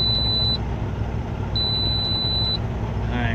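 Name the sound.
truck warning beeping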